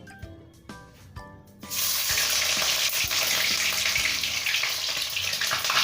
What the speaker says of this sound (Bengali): এরপর আমি ডিমগুলো ভালো করে ভেজে নেব